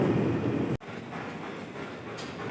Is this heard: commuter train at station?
yes